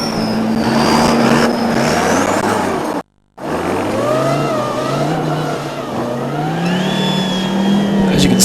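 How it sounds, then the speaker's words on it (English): A Volkswagen rally car engine revs hard while stuck in soft desert sand during the Dakar 2011 rally, a loud close roar with rising and falling pitch, cut by a brief dropout, then straining again under a commentator's voice. "He's just got to keep the engine rolling."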